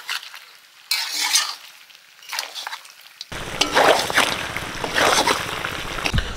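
Meat being stirred and browned in a pan for a spicy curry: first scattered scraping strokes with quiet gaps, then an abrupt switch to a loud, continuous sizzle with repeated spoon scrapes and clinks against the pan.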